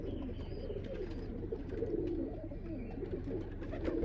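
Pigeons in a loft coo softly and continuously, several birds overlapping in low murmuring calls, faint and close with light rustling around them.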